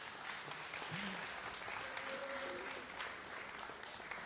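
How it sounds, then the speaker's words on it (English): Steady audience applause at a sim racing expo fills the whole stretch, a dense even clatter of many hands clapping at moderate loudness, with a brief voice murmuring underneath. "And that's again your applause"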